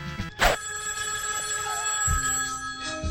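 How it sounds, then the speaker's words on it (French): A telephone rings in the NES and Super NES video game James Bond Jr., with a loud electronic ring burst near the start over steady game music and tones. "Le téléphone sonne."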